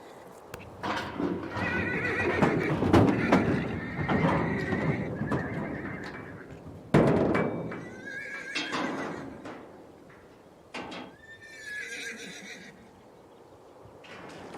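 Wild Australian brumbies give repeated loud neighs and whinnies, some near and some farther off, with hooves clip-clopping and shuffling on the ground between the calls.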